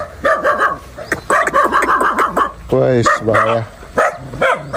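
A guard dog barks repeatedly at arriving visitors outside a village house in the late afternoon, loud and close, in sharp bursts mixed with someone talking.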